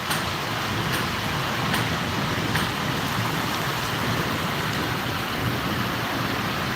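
Heavy rain pours steadily outside in a dense, even hiss that holds throughout, loud and continuous with no voices over it.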